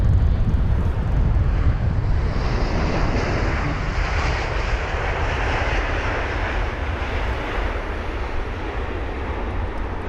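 Qatar Airways Airbus A350 at London Heathrow, a loud, steady broadband jet engine roar with wind buffeting the microphone, sustained for the whole stretch with no talking.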